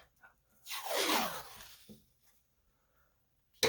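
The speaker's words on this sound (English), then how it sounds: "junky washi tape that doesn't stick" A single long rip of cheap washi tape pulled off its roll, close and crisp, followed by a short soft tap and a brief rustle at the end as the tape is pressed down, with no one speaking.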